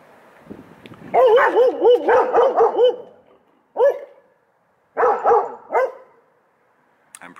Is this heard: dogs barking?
yes